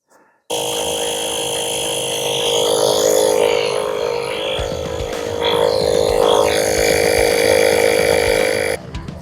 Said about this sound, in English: try and get some air in this tyre just to get us off of here